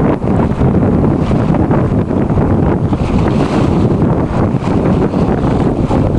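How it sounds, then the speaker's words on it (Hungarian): About 12 knots of wind at sea aboard a sailboat heading toward Oman, loud and continuous buffeting against the microphone with the rush of water beneath, no voices. "Ez a 12 csomó szél."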